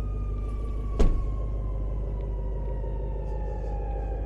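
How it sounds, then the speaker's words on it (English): An ambulance siren passes outdoors, its steady tones gliding slowly downward in pitch over a constant low rumble, with a sharp thud near the start. "Uh-oh, we got an ambulance."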